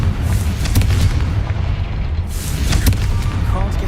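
In the Hogwarts Legacy video game, the Confringo explosion spell goes off as heavy booming bursts over a low rumbling battle bed, with sharp cracks recurring, loud and close.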